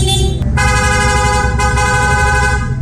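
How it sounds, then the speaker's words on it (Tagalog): A stock motorcycle horn blares in a loud, steady, continuous honk lasting nearly three seconds, close by and with no one speaking. "Stock horn."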